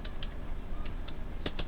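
A computer keyboard being typed on in Microsoft Word 2021 gives off a handful of light, uneven keystroke clicks over a steady background hum.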